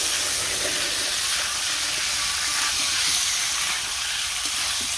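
Dried chilies frying in hot oil in a home kitchen, a loud steady sizzle and hiss with small crackling pops throughout, close and continuous.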